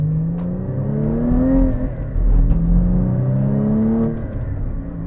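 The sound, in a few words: sports car exhaust revving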